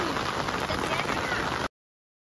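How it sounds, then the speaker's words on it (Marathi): Heavy rain pours over farm fields, a dense, steady hiss of drops on surfaces filling the short stretch at constant loudness before cutting off abruptly. "जोर जोरात पाऊस पडते."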